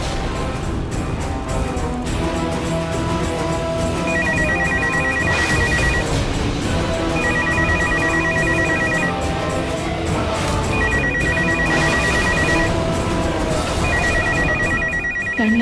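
A landline telephone rings in repeated bursts, about four shrill ring cycles spaced a few seconds apart over a steady background.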